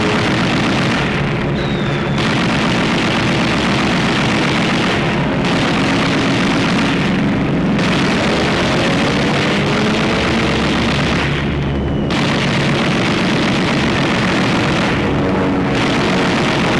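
Engines of B-24 Liberator and B-17 Flying Fortress bombers in a World War II newsreel, a loud, continuous low droning roar that holds steady throughout.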